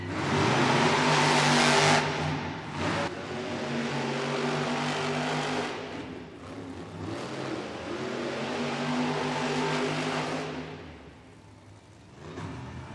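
Monster trucks race side by side in an arena at a Monster Jam event, their engines roaring loudly, swelling and fading in long revving surges with a brief dip near the end.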